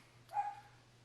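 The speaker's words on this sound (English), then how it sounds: "That's my dog's barking" A dog gives a single short bark partway through, fairly faint, over a quiet indoor background with a low hum.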